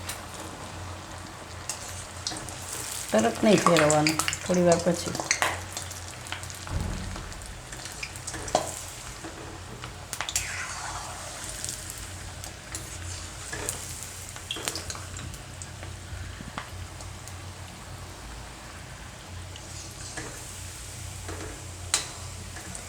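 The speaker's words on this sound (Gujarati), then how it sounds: "આને આપણે તળી લેવું." Paneer bread pakoda fries in hot oil, a steady soft sizzle and crackle that runs for a long stretch with occasional bubbling pops. Someone speaks briefly early on.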